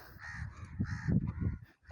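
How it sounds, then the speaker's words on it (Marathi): Crows cawing at Suvarndurg sea fort, several harsh caws in quick succession, fairly close and moderately loud, overlapping with some low background rumble. "तुम्हाला म्हटलं तसं कावळे इतके आहेत"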